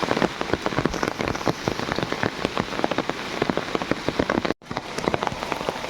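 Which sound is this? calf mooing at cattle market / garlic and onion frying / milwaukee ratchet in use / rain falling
rain falling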